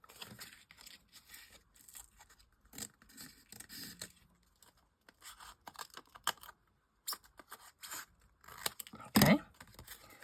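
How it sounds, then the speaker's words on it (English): Scissors snip through craft material in a few short, crisp cuts near the end, after quieter rustling and handling sounds, with no talking. "I'm just going to have to snip a bit off this."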